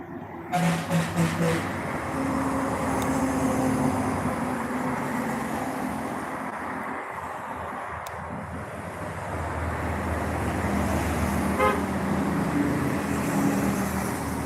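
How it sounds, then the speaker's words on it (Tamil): Steady stream of many vehicles passing on a bypass road in the evening, a continuous loud roadway rumble with swelling pass-bys and no talk over it. "எவ்வளோ வாகனங்கள் போகுது"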